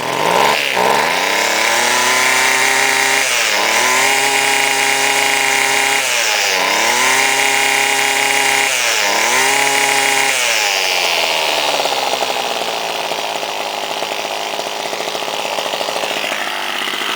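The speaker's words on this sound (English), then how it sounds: "after numerous cranking, I finally got this Homelite to start now." Homelite gas string trimmer engine running close and loud after carburetor servicing, a steady buzzing two-stroke drone that revs up and down several times in the first ten seconds, then settles into an even, slightly rougher idle, with no talk.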